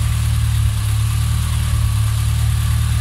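A car engine idles steadily with a low, even hum and faint pulley and drive-belt whir, close and continuous with no talking over it.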